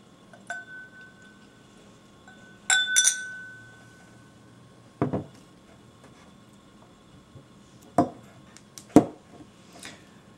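A Hibiki 21 Japanese whisky bottle's solid glass stopper clinks and taps several times, sharp, close, isolated knocks separated by quiet pauses.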